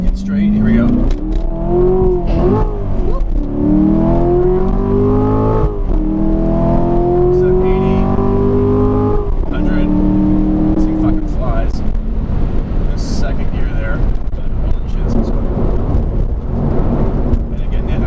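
A 2017 Corvette Grand Sport pulls hard on an open road, its engine climbing steadily through rising revs with shifts between pulls, loud and close from inside the car, with talk over it.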